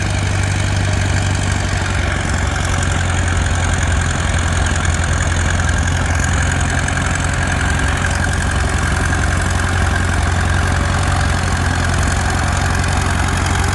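Loud, heavy antique tractor engine chugging steadily at a tractor pull, with a deep, throbbing low rumble and some clatter, sustained without pause and no talking.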